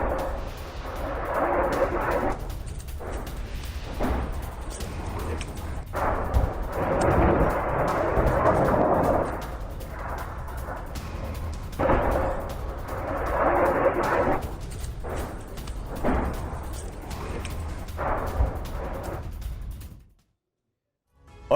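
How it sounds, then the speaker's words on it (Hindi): Russian army bombardment and air strikes in the Sorokyne area: continuous heavy rumbling blasts and booming artillery fire roll on for about twenty seconds, dense and loud throughout before cutting off abruptly. "सोरोकिने क्षेत्र पर रूसी सेना की बमबारी"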